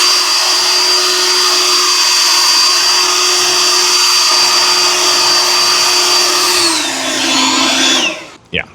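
A HOTO 20V cordless leaf blower with 720 CFM runs on turbo, giving a loud, close, steady whine and rushing air. Near the end it winds down in pitch, then clicks off and briefly bursts on again.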